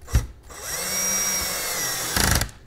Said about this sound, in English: So I'm going to reverse my drill.